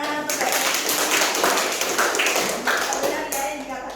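Classroom applause from students during an Indonesian-language microteaching lesson: a dense, steady patter of many hands clapping together, fairly close and sustained throughout with no pause.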